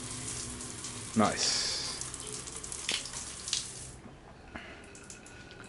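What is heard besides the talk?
hotel shower running water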